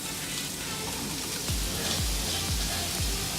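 Seasoned pork sizzles loudly in hot oil for a Kerala-style pepper roast, a steady crackling hiss with a few soft stirring scrapes repeating in a regular rhythm.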